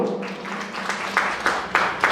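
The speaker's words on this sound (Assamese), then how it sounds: "আপোনালোকে সকলোৱে দি হাত তালি আগবঢ়াব" Audience applause at an Assamese Vedic assembly seminar and gathering for children, youth and women: a few sharp claps rise out of a murmuring hall, briefly, then fade.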